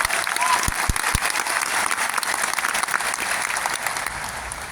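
Audience applause fills a hall at a Nutricharge team event, dense steady clapping from a sizeable crowd with a few sharp low thumps early on, holding loud throughout.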